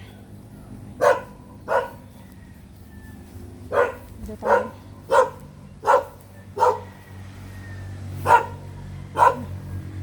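A tied-up dog barks angrily and repeatedly in sharp, evenly spaced bursts, about ten barks, fairly close, with a brief spoken phrase in between.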